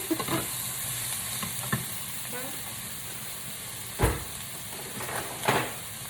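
Pasta with plant-based chicken and chickpeas stirred in a pan, a steady low sizzle under soft scraping, with a few louder utensil knocks around the middle and near the end.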